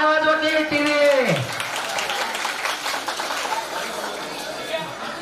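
Audience applause at a prize-giving ceremony, a steady wash of clapping that follows a sustained tone and runs on throughout, with voices mixed into the crowd noise.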